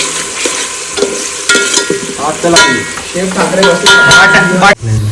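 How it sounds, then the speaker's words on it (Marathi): Onion and potato frying in a pan at a mountain fort campsite give a loud, close sizzle, with scraping stirs and clanks of a spatula against the metal. A sharp knock near the end briefly cuts into the sizzling. "आणि आता कांदा थोडा लाल होऊन द्या, मस्त तडकून द्या थोडा."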